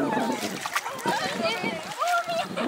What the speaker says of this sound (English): Let's dip our feet into the water.